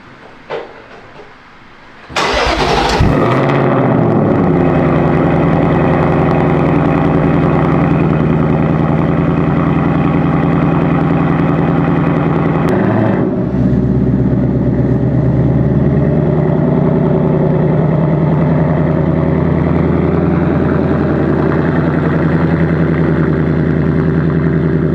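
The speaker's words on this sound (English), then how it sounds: "I'm gonna start the car real quick so you can you get back here and get the cold start real quick" Ford S650 Mustang cold start: a short crank bursts into a loud revving flare, then drops into a steady, heavy idle rumble for the rest of the recording.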